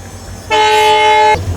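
Horn of the Sindhanur Express diesel train from Yeshwantpur sounds once, a loud sustained tone lasting under a second over low rumbling railway background.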